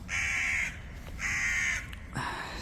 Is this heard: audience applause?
no